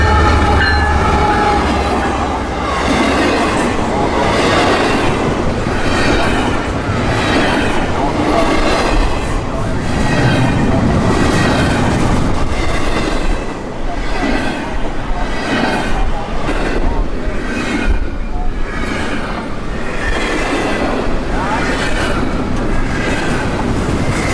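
A long freight train with a mid-train DP engine rolls past steadily and loudly, wheels clacking in a repeating rhythm with occasional metallic squeal, continuous for the whole stretch.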